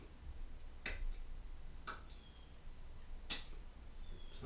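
Three sharp, isolated clicks of stop consonant releases spaced about a second apart over a steady hiss with a faint high whine.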